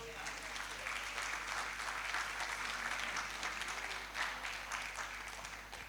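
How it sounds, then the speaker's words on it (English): A church congregation claps together during a sermon, a steady, fairly distant patter of many hands with faint voices mixed in. "Now you can put your hands together and clap."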